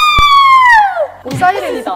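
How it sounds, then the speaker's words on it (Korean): A siren wails in a long falling sweep, loud and close, then fades into a mix of voices and noise as people talk over it. "오, 사이렌이다."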